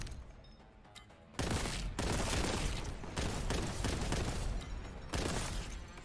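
Heavy gunfire from Warhammer 40K: Boltgun, a loud sustained barrage of blasts that kicks in after a quiet opening and rolls on with a few brief dips, no voices over it.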